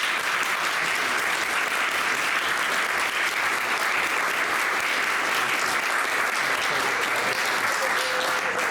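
A lecture audience breaks into full applause, a loud, dense and unbroken roar of clapping that holds steady for nearly nine seconds.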